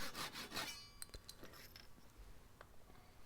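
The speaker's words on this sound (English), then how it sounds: "I'm going to be using a Japanese pull saw, which will allow me to have a precision cut" Japanese pull saw rasping across a small wooden stretcher key, a short quiet burst of sawing strokes near the start followed by faint scrapes and light taps.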